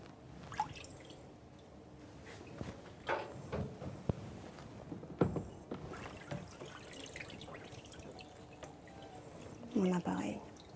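An endoscope gets its final rinse in a basin of water, with scattered drips, light splashes and trickling sounds at low level, accompanied by soft handling noises and a faint voice in the background.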